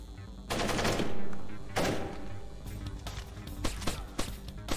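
Gunfire in the stealth video game Splinter Cell, with loud, dense blasts in two heavy bursts followed by sharper single shots amid game noise.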